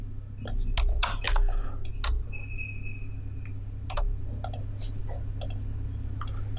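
Scattered clicks from typing on a computer keyboard while building a web contact form, sparse and moderately close, with short bursts of keystrokes separated by pauses over a low steady hum.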